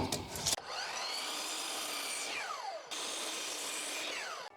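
Hand or power saw cutting through a 1.5-inch thick wood board at the 21-inch mark, a steady close rasping grind that runs almost continuously with a brief pause midway.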